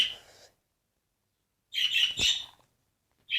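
Harsh, raspy bird squawks from a Minecraft game come in short bursts, with a pause between them and a third starting at the end.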